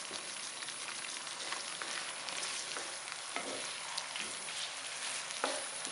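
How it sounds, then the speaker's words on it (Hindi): Chicken pieces frying with a little yogurt in a pan for a turnip and spinach chicken dish, a dense continuous sizzle with soft stirring scrapes, close and fairly quiet, no voices. "अच्छी तरह भून लेना है जब तक चिकन का कलर चेंज नहीं हो जाता।"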